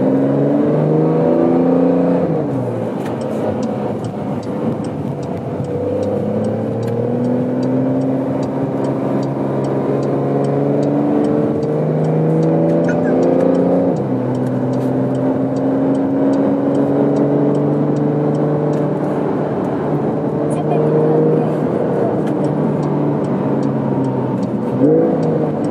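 Steady engine note of a Porsche 992.4 GTS heard from inside the cabin, a continuous mid-pitched drone that rises and falls in pitch as the car accelerates and shifts, with no talking.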